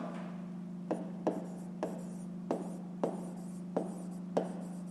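A pen scratches across paper in a math exercise book, with short strokes and taps recurring every half second or so, quiet and close over a steady electrical hum.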